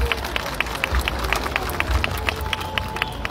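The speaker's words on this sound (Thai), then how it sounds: "ก็ขอเสียงปรบมือให้โรงเรียนด้วยค่ะ" A crowd at a Korat candle procession festival opening applauds Suranari Wittayalai school on its centenary, steady rhythmic clapping with crowd murmur underneath, moderately loud and continuous.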